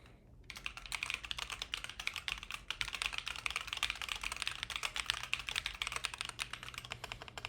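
Rapid, continuous typing on a computer keyboard, dense close-up key clatter that starts after a brief pause and carries on without talk.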